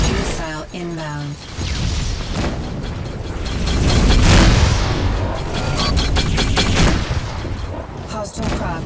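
Space combat in the game Rebel Galaxy Outlaw: an incoming missile and a string of loud booming explosions and rattling gunfire, building to a heavy blast midway, with a synthetic voice briefly at the start.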